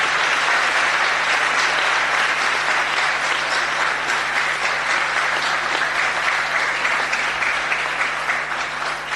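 Loud, sustained applause from a large audience welcoming a man onto the stage at a Jain religious gathering, a dense steady clatter of clapping lasting throughout with no pauses.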